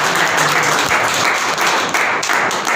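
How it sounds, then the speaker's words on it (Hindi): Newly elected district members of a Rajasthan teachers' association in Bikaner receive applause from the audience, steady and fairly loud, dense clapping across the whole stretch with no voices over it. "एक बार सभी नवनिर्वाचित सदस्यों को बहुत बहुत धन्यवाद, इसके लिए जोरदार तालियों से"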